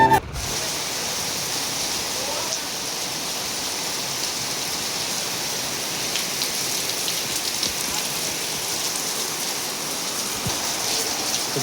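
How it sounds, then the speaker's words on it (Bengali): Heavy rain pours steadily over an open village football field in Daspur, Paschim Medinipur, a dense, even hiss that holds at constant loudness with no voices. "প্রচণ্ড বৃষ্টি পড়ছে"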